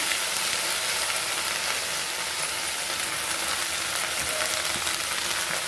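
Drumstick (moringa) leaves sautéing in a spoon and a half of oil in a pan, a steady soft sizzle and hiss running without a break, close and fairly quiet.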